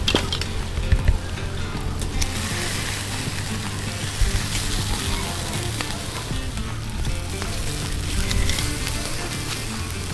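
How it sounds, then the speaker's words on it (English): Continuous crackling sizzle of a beef tomahawk hanging over an open fire, dripping as it cooks, with occasional sharper pops and faint background movement throughout. "It's got to be a sizzle."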